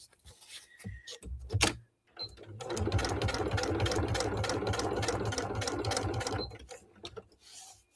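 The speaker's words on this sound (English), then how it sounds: "So all I'm doing is sewing around the edge." Close and loud, a sewing machine stitches around the edge of a bag in one sustained run of rapid rhythmic clatter lasting several seconds, with quieter handling clicks before and after.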